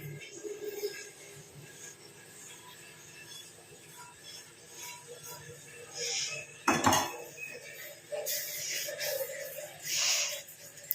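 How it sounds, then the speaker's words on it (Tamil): A hair-dye mixture is tipped out of a pan onto a plate, giving a quiet, scattered run of metal clinks and scrapes with a sharper clatter midway and a few more near the end. "இப்போ இது எல்லாத்தையும் நம்ம தட்டில் கொட்டி நல்லா ஆற வச்சிடலாம்."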